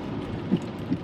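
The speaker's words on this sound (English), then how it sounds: "Storm Dennis the Menace" Storm Dennis rages outside as steady, dense rain-like rumble, with two soft low thuds breaking through the continuous noise.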